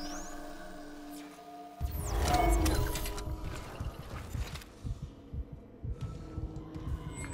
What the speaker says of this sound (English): Stop with a heartbeat.